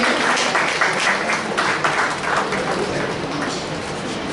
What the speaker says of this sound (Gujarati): આપણે આ બંને તાળીઓના ગગડાટ લઈએ.